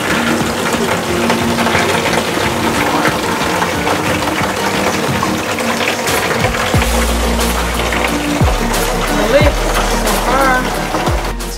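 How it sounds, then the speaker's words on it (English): An electric water pump in a DIY camper van shower setup runs under power, giving a steady low hum and whine mixed with gushing, splashing water over about twelve seconds. "Let's give the water pump some power."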